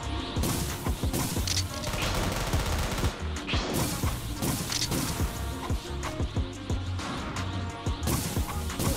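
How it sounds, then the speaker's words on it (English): Rapid double machine-gun fire in the Hunter x Hunter Ultimate video game, dense bursts of shots and impacts cutting through game effects and a low music bed, loud and nearly continuous. "you guys can see how fast I am melting these NPCs"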